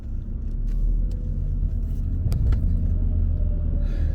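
A car drives along on the way to work, a loud steady low engine and road rumble heard from inside, with a couple of brief clicks and knocks over it.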